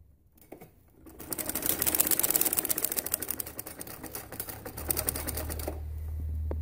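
A sewing machine stitches a sharara's seam, running in a dense, rapid chatter of needle strokes for several seconds close by, then slowing to a low hum as it stops.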